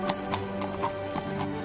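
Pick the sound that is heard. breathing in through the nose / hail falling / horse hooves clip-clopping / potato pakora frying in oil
horse hooves clip-clopping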